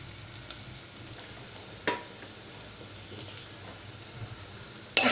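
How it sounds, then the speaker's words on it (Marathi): Malvani masala mixture is stirred in a cooking pot, with a soft steady sizzle under sparse metallic scrapes and clinks of the spoon against the pot, close and fairly quiet. "आता मी हे असं व्यवस्थित मिश्रण एकजीव करून घेणार आहे।"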